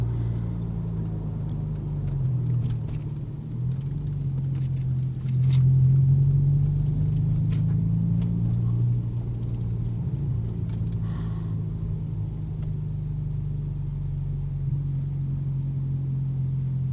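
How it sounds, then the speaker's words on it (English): A Kenworth C500 truck drives slowly across a backyard, its engine a steady low rumble that swells briefly midway and then settles, with no talking. "Let's drive across the backyard here."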